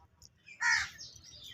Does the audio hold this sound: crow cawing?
yes